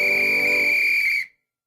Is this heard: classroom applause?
no